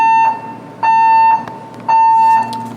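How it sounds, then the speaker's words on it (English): A loud electronic alarm beeping nearby in a home, repeating pure high tones in roughly half-second pulses, each followed by a short gap, with no voices. "This alarm has been going off for 2 hours now."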